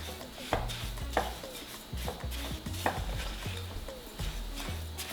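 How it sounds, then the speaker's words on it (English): Homemade hibiscus body scrub stirred in a bowl, a spoon clinking and scraping in an irregular rhythm of soft taps and knocks, close but quiet over a faint background hiss. "Let me just mix this for now and see how it goes."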